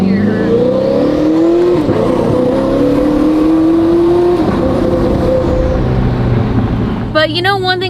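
A stock 2025 Corvette ZR1 with a 1064-horsepower engine revs briefly and rises in pitch, a loud close rumble that settles back to idle, with a voice speaking over it near the end.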